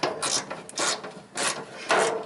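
A wrench tightens a bolt on a 1970 Volkswagen Type 3 Squareback in four rhythmic rasping strokes, close and moderately loud, with short pauses between each turn.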